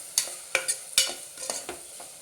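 A spoon stirs cauliflower, bottle gourd, potato and carrot into khichdi in a pot, making four or five sharp, close scrapes and knocks against the metal over a faint sizzle.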